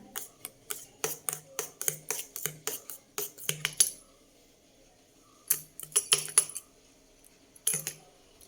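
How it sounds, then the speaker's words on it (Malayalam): Quick, rhythmic clinks of a utensil against a bowl as a banana pudding mixture with milk is stirred, pausing for a couple of seconds before a few more bursts. "നന്നായിട്ടൊന്ന് മിക്സ് ചെയ്യാം."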